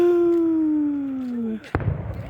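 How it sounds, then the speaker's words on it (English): Fireworks going off, including a blue burst: a long drawn-out falling tone, then one sharp, loud bang trailing into crackling noise. "I got a perfect blue firework this time."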